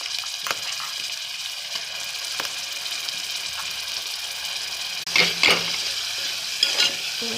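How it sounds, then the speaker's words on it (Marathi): Ground masala paste frying with softened onion in oil, a steady close sizzle and crackle throughout, with a few louder bursts of stirring near the end. "वाटण चांगलं तेल सुटेपर्यंत वाटण परतून घ्यायचं."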